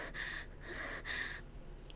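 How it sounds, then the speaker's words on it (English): A video game character pants heavily in Corpse Party: Blood Drive, with three or four strained, breathy gasps in a steady rhythm, close and fairly quiet. "Why are we already panting?"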